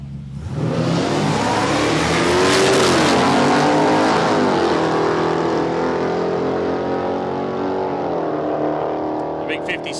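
A 1957 Chevrolet drag racing at Palmyra Raceway, its engine revving hard and sustained, rising and shifting pitch as it accelerates away, loud and continuous, with a commentator talking over it.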